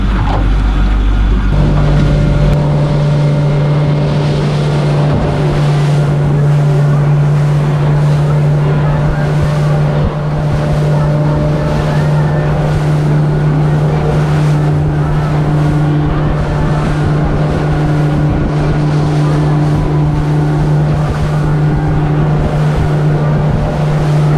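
Motorboat cruising on the ocean around the islands of the Dampier Archipelago, with a loud, steady outboard engine drone, rushing water and wind noise throughout, close and continuous.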